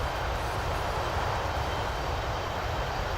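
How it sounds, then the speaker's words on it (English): Steady, quiet drone of Airbus A330-300 engines during a climb in a flight simulator game, a continuous even hum with no voices over it. "As you probably can hear, the engine volume is very low."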